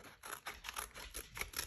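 Quick, crisp snips of scissors trimming excess paper from a handmade card come in a rapid run of about seven close strokes, quiet and near.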